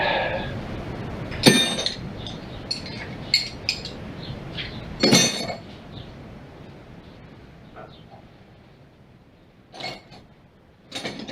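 Screws being taken out of a 1981 Ford F150 bullnose flareside pickup: a few sharp metallic clinks and clanks at irregular intervals, fairly close, with quiet rustling between them and no talking.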